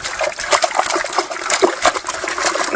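A gold prospecting carpet is swished back and forth in water, steady close splashing and trickling with rhythmic sloshes, no talk.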